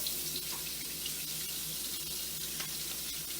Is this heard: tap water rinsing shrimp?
yes